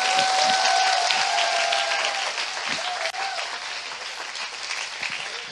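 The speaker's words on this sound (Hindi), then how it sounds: "क्या हम यीशु के लिए ताली बजा सकते हैं?" Congregation applauding for Jesus during a Hindi church sermon, a dense, sustained wash of clapping that fades slightly toward the end, with a faint tonal hum underneath.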